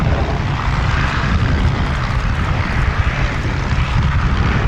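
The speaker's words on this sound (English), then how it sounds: "A pair of Rolls-Royce Turbomeca RTM 322 turbo shafts." A twin-engine helicopter with a pair of Rolls-Royce Turbomeca RTM 322 turboshafts roars loud and close at an air show, a steady turbine and rotor drone with no voices.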